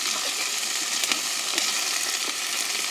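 Curry chilies and onion sautéing in a pan in a village kitchen, a dense, bright, steady sizzle close up with a few faint stirring scrapes, no voices.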